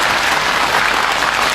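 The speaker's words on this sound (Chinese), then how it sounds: "来，掌声欢迎" An audience claps warmly to welcome guests onto a Chinese television interview programme, the applause loud, full and continuous throughout, with no speech over it.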